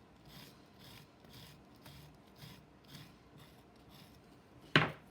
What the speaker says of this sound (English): you kind of have to go back to your trimming tool to clean it up